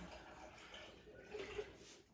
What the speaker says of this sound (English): Let me pour this in.